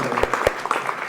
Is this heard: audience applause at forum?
yes